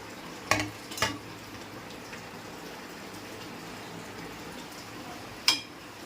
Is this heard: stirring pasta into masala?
yes